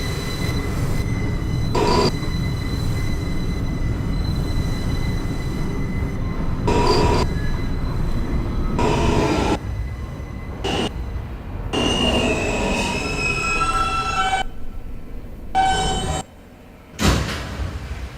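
A New York subway F local train runs toward Coney Island-Stillwell Avenue, making a loud continuous rumble with rattling wheels, recurring high squeals and clanks, heard from inside the car over about eighteen seconds.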